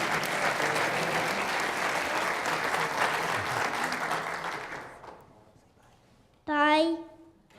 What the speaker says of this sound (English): We'll give him a big round of applause